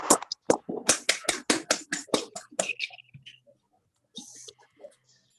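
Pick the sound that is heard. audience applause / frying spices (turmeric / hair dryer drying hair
audience applause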